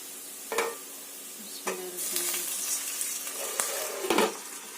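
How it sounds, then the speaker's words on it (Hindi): Loud sizzling and hissing as water is poured into a hot pan of sautéed onions for mutton pulao, with a few sharp clatters and stirring bursts, close by and without voices. "डालते हैं इसमें पानी"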